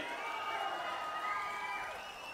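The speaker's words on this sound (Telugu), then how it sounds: "గట్టిగా చప్పట్లు కొట్టి చెప్పండి, చేస్తామని" Loud, continuous crowd noise from a political rally audience, clapping and cheering together as a dense wash of sound that holds steady for a couple of seconds.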